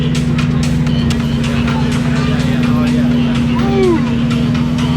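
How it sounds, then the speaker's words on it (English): Ferrari LaFerrari Aperta backing up, its engine giving a steady low idle hum with a faint whine, near and continuous, under the murmur of people and other car noise. "LaFerrari Aperta backing up"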